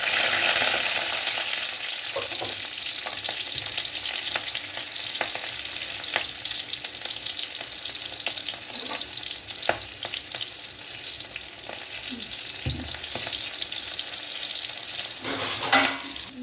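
Nigella seeds and green chili frying in hot oil in a kadai hiss and spit steadily up close, with scattered stirring clicks and a louder clatter near the end.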